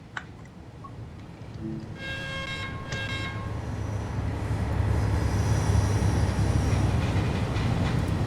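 A DB BR 365 shunting locomotive in Train Sim World hauls RMMS freight wagons, a steady rolling rumble that grows louder, with brief tonal horn-like notes early on and faint rail clatter.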